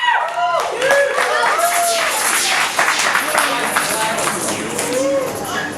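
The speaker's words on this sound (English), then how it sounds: "Everyone give her a round of applause." An audience at an evening music-industry networking event claps and whoops for a woman introduced to the stage, a busy, loud burst of applause mixed with cheers and voices throughout.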